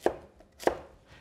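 A knife slices through a firm onion on a cutting board, producing two sharp, close chops about half a second apart in an otherwise quiet kitchen.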